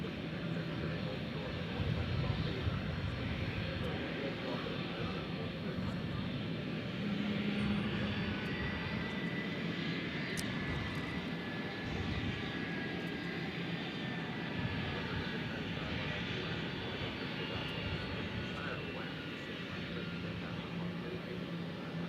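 Jet engines of Envoy regional aircraft at DFW International Airport roar steadily and loudly throughout, a broad continuous rumble with no talk over it.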